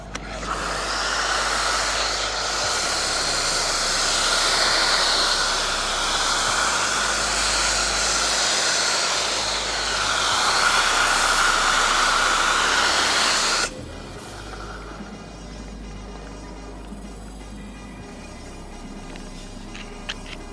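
A pressure washer foam cannon sprays Clean by Pan demineralizing shampoo onto a car in a loud, steady hiss that runs for several seconds, then cuts off abruptly, leaving quieter background noise.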